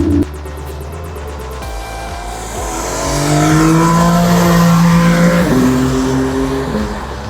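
A race car engine in a driving video game revs and accelerates, pitch climbing through gear changes, loud and close, with no talking.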